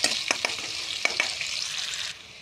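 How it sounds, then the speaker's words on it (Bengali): Chopped onion frying in fish oil with bay leaf sizzles steadily in a pan, punctuated by several sharp scrapes and taps of a spoon stirring, until the hiss cuts off abruptly. "পেঁয়াজ কুচি দিয়ে হালকা হালকা করে নাড়তে থাকবো।"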